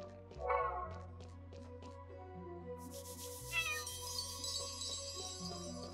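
A cat in the video game Chained Echoes meows a few times over ongoing game music, the short cries fairly soft and mixed in with the score.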